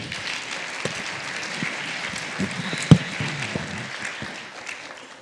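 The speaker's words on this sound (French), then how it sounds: "Vous pouvez les applaudir bien fort" Audience applause for guests joining a science-fiction panel discussion, a steady dense wash of clapping across the whole stretch with one sharp louder clap near the middle.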